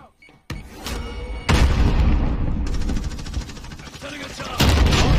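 A grenade blast in the video game Warzone comes as sudden loud booms, with the first heavy burst about a third of the way in and another near the end, amid continuous gunfire-like rumble, with some talk mixed in.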